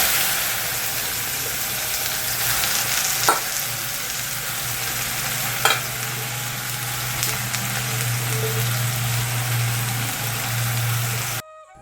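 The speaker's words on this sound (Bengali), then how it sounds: "আমি কিন্তু তেলটা কড়াইয়ের মধ্যে দিয়ে দিয়েছি, কড়াইটা কিন্তু গরম হয়ে গেছে। এবার দিয়ে দেবো এই মাশরুমগুলোকে।" Sliced mushrooms fry in hot oil in a heated kadai, giving a steady broadband sizzle throughout with a few sharp clinks from stirring, loud and close, with a low background hum and no talking.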